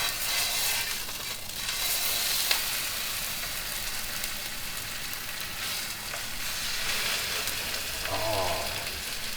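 Pork chop frying in oil in a pot, a continuous close crackling sizzle with brief bursts of spitting, steady and moderately loud with no speech.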